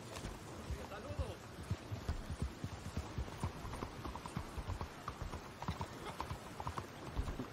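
Rhythmic clip-clop of video-game horse hooves trotting steadily at a moderate pace, fairly close, with a voice speaking faintly over the hoofbeats.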